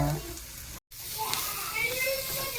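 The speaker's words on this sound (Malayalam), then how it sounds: "ചീഞ്ചട്ടിയിൽ നന്നായിട്ട് വഴറ്റിയെടുക്കുക" Carrot, onion and grated coconut sautéing in ghee in a cooking pan, giving a steady broadband sizzle with hiss throughout, broken by a brief gap of silence, with faint kitchen clatter.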